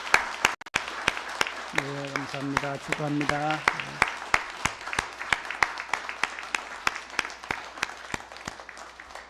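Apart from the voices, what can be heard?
congregation applauding in church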